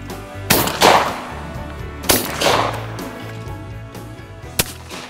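Shotgun fired at clay targets during duck-hunting practice drills: three loud, close blasts a second or more apart, each trailing off in a short echo, with no talking between them.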